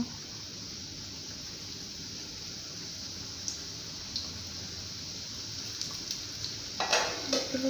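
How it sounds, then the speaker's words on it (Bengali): Papdi deep-fry in hot oil in a home kitchen, giving a steady, faint, close hiss of bubbling oil, with a few light clicks and a louder crackle of frying near the end. "এবার আমি পাপড়িগুলো ভেজে নেব।"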